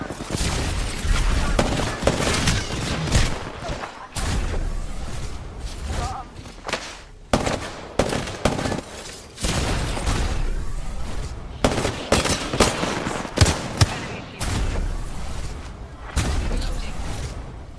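Sustained automatic gunfire from an Apex Legends match, loud and continuous bursts with thumps and mechanical clatter, broken by brief gaps, with game voice lines layered in.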